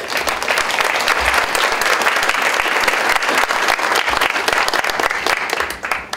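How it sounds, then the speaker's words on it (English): Steady, dense audience applause fills a conference hall at a waterfront conference keynote session, holding loud and even throughout before thinning slightly at the end. "a round of applause for John Boulay"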